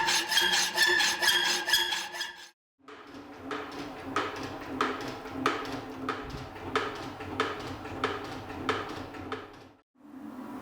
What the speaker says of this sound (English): So I'll start by just hacksawing the corners off.